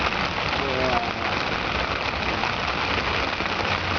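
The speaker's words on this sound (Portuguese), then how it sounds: "Com chuva em São Paulo" Steady rain falls in São Paulo, a dense, even hiss of drops on surfaces that stays constant and close throughout.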